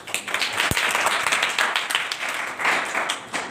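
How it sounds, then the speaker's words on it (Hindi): Audience clapping loudly at a motivational talk, a rippling spread of hand claps with one sharp thump early on, swelling and easing over a few seconds. "आप लोगों के लिए एक बार जोरदार ताली होना चाहिए"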